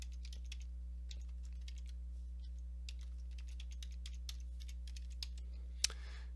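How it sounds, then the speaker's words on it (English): Quick, light clicks of typing on a computer keyboard come in short bursts over a steady low electrical hum, fairly quiet and close. "we're going to type welcome new employees"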